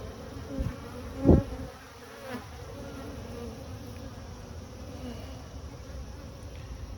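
Honeybees hum in a dense, continuous drone from an open hive under inspection, close and steady, with one bee buzzing louder as it passes near early on.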